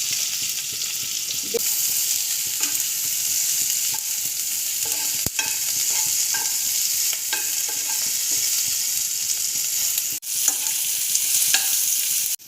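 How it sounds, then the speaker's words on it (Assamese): Chopped onion and green chili sizzle and fry in a hot pan while being stirred for chicken pakora, a steady close hiss with occasional scraping strokes, no one speaking. "মই পিঁয়াজ অকণমান কাটি দি দিছোঁ, অকণ গৰম কৰি দিলেই হ'ল।"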